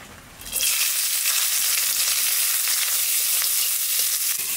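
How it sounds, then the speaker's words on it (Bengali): Green chillies hit hot oil with a sudden loud sizzle that settles into a steady, bright frying hiss, continuous and close, with no talking. "তেলের পর দিয়ে দেবো কটা কাঁচা লঙ্কা"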